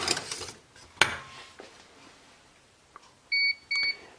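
A cooking hob gives two short, clear electronic beeps as it is switched off, following earlier clatter of kitchen utensils in a quiet room.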